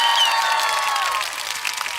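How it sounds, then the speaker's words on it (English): A crowd cheers and claps briefly, a bright, dense wash of noise with a few whistling shouts, fading slightly toward the end. "Start cheering now!"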